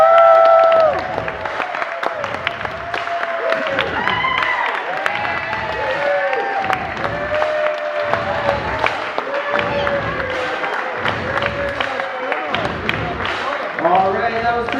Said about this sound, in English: give a big round of applause for the entire bridal party